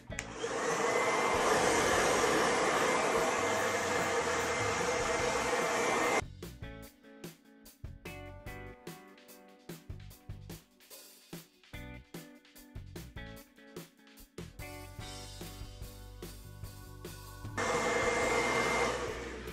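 A hair dryer on its cool setting blows with a steady, loud whoosh, cuts off for several seconds of scattered handling noises, then starts blowing again.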